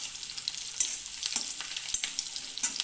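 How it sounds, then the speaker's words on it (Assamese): Onions frying in a pan, a soft crackling sizzle with a few brief stirring clicks and pops, close and fairly quiet, with no talking. "পিঁয়াজখিনি অকণমান ৰঙচুৱাকৈ ভাজি ল'ম।"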